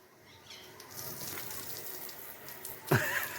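Water runs steadily from a tap or hose onto bricks to wet them, a soft continuous gush that rises slightly, with a brief sharp sound near the end.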